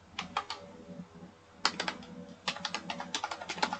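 Rapid keystrokes on a computer keyboard while entering text into a spreadsheet, coming in quick clustered bursts with a brief pause midway, close and fairly quiet.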